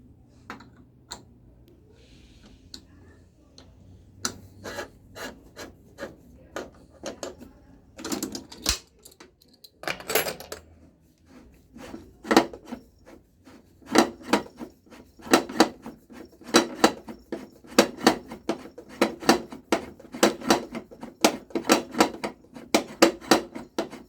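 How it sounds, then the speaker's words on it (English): Metal wrench work on a piston during a cleaning job with a number 17 wrench: a long run of sharp, closely spaced metallic clicks and taps, sparse at first and then dense and steady, close and fairly loud. "to take the piston off, we're going to use a number 17"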